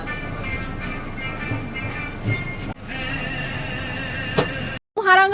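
The Agartala–Rani Kamalapti Express rumbles along the rails with a steady mechanical roar, cut briefly by silence before the noise resumes near the end.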